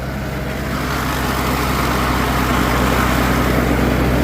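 A Farmall Cub tractor in first gear at about 80% throttle drones steadily and evenly while mowing deep, wet weeds, a continuous low engine hum that holds constant and slightly swells toward the end.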